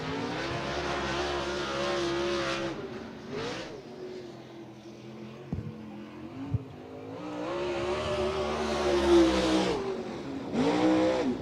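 The 900-plus horsepower race car engine of the number 46 roars around Willamette Speedway, rising and falling in pitch as it revs and passes, loud and continuous with brief dips.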